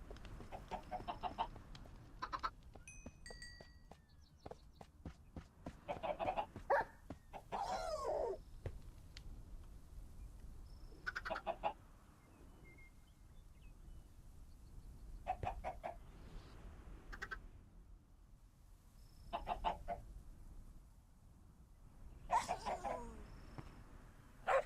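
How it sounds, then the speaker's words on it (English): Minecraft chickens clucking in short repeated bursts, several calls spread across the stretch at moderate loudness with quiet gaps between, no talking over them. "Let's get some more chickens."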